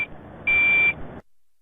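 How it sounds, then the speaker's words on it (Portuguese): Volvo FH truck reversing alarm sounding a single steady electronic beep of about half a second, clear and fairly loud over a low background hum that then cuts off. "O alarme de ré ajuda terceiros a saber que o caminhão está manobrando."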